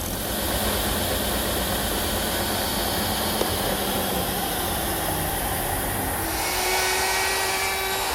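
A router spins a half-inch radius roundover bit along wooden edges, a steady high-pitched whine with dense broadband cutting noise that runs continuously, then drops in pitch near the end as the bit spins down.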